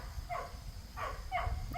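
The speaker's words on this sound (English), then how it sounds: "We're getting barked at by our border collie." A border collie barks three times outdoors in a garden, the barks spaced apart and moderately distant over low background rumble.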